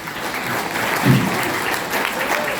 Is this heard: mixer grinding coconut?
no